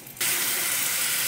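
Taro stolons dropped into hot oil with green chilli and panch phoron, giving a sudden burst of bright steady sizzling hiss that starts a moment in and holds loud to the end.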